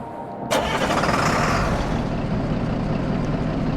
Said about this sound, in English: Truck doesn't sound that bad when you start it.